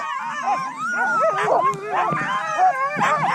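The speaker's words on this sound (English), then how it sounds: "As you can see, the dogs are ready and they're aggressive as well, fighting among themselves." Team of eight sled dogs on the Greenland ice sheet, harnessed and restless before a run, yelping, whining and snarling as they scuffle among themselves in a continuous, close, noisy chorus.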